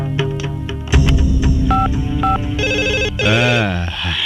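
A telephone call to a police station: ringing and dial tones sound in short pulses and warbling bursts, loud and close, with a voice speaking over them.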